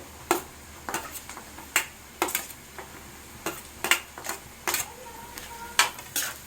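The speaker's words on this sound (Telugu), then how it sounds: "క్యాబేజ్ కొంచెం ఫ్రై అయిన తర్వాత క్యారెట్ యాడ్ చేసుకుంటున్నానండి." Shredded cabbage and carrot are stir-fried in a pan for street-style egg fried rice, with sharp spatula clacks and scrapes repeating irregularly against a steady sizzle, close and prominent with no voices.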